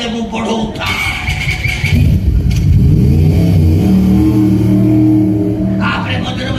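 A performer vocally imitates a car engine revving up as the car gains speed during an Odia jatra stage comedy, a sustained rising drone lasting several seconds, loud and close, following brief talk.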